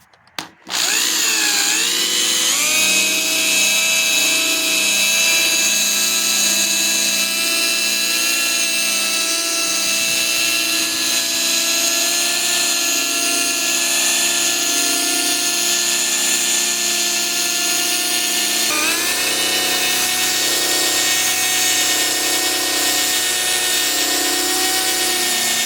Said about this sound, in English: So I'm just going to strictly use the buffing wheel and the compound to try to bring